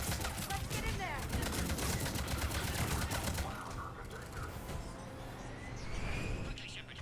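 Rapid automatic gunfire in Mass Effect 3, a dense stuttering volley of shots for several seconds, then lighter scattered fire and whooshing effects, with faint voices beneath.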